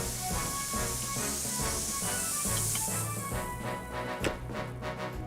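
A steady cartoon hiss of water spraying onto a mountain grass fire, loud and continuous, fading as the blaze goes out, with music underneath.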